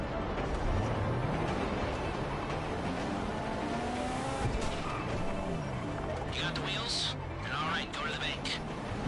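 Car accelerating and skidding in GTA 5, a rumbling engine with shifting pitch under a busy game soundscape, with brief hissing tire-like bursts near the end and background voices.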